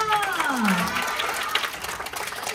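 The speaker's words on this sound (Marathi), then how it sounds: "तरी सुद्धा आईसाठी जोरदार टाळ्या वाजवायच्या का?" A group of children and parents applaud the mothers at a home birthday party, a short burst of clapping mixed with excited voices and cheering.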